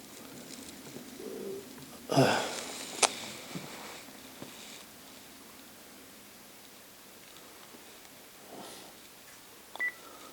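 Brief telephone dialing tones, faint against a quiet background, come through on a phone or conference line during a group study call.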